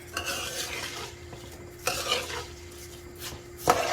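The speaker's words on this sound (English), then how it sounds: "So let's mix it up." A spoon scrapes around a cooking pot as butter rice is stirred, with a steady scraping texture and a few louder clangs against the metal rim, close and alone.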